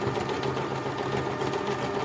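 A sewing machine runs steadily, stitching fabric for a handmade Easter bunny toy, with a continuous even mechanical whir and rattle at moderate volume and no talk.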